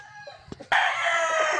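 A pure Boston Millionaire gamefowl rooster crows once after a couple of short clucks, a loud, close, sustained call that fills the second half.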